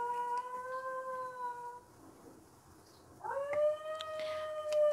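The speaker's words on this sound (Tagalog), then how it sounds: "Maingay po yung aso po namin." A pet dog howls in long, steady, wavering tones, stops for about a second, then starts again with a fresh rising howl. It sits close and fairly loud, with no talk over it.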